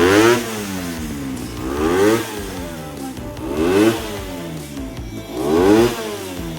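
A Suzuki FXR 150 carbureted motorcycle with a flow-system exhaust revs up close in four repeated surges, each rising to a loud rasp before dropping back to a rough idle.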